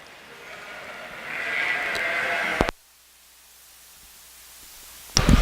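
A ewe at a sheep show lets out one long, loud bleat, then after a short quiet gap a second bleat begins, both close by over faint background noise.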